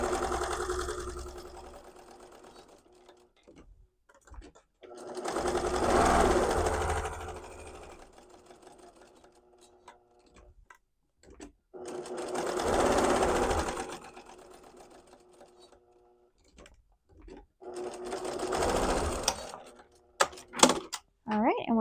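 A sewing machine stitches the sides of a quilted tote bag with flex foam. It runs in three long whirring bursts, each several seconds long, separated by quieter gaps with clicks and handling sounds.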